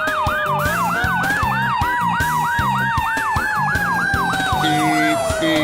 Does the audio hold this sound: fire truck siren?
yes